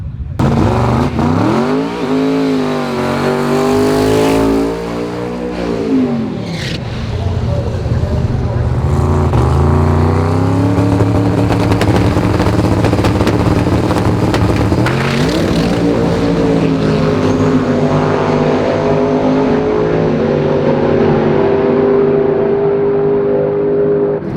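A 3000-horsepower drag race car launches and accelerates hard down the strip, its engine note climbing and shifting through rising sweeps, loud and then fading into the distance.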